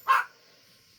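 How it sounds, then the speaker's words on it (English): A short yip from a litter of puppies that are eating solid food, a single sharp bark-like burst up close, then quiet room tone. "here is Paprika's Puppies"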